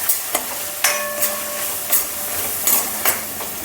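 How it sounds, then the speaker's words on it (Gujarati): Spoon clanks and scrapes against a pan as a spice masala with turmeric and garam masala sautés with tomatoes, several ringing metallic knocks spaced irregularly over a low steady sizzle, close up. "આપણે આ મસાલાને આ જ રીતે 2 મિનિટ સાતળી લેવાનો છે"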